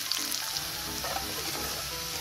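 Onions frying with cumin seeds in a pan, a steady dense sizzle that holds evenly and close throughout, with no voices.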